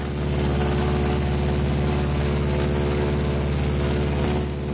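Martin B-26 Marauder bomber flying on a single engine, a steady, loud, unbroken piston drone with a deep throbbing hum that holds constant throughout, no voices.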